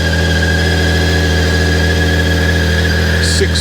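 A BMW K1600GT's six-cylinder engine idles smoothly and steadily close by, a constant even hum with a faint squeal near the end.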